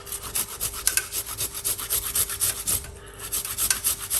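Fresh ginger root rubbed quickly against a grater, a close, steady run of short rasping scrapes in a brisk repeating rhythm with no talking.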